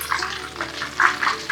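Corn cob pieces frying in hot oil give off sputtering bursts of sizzle that rise and fade in irregular pulses over a steady low hiss, close by, with no voices.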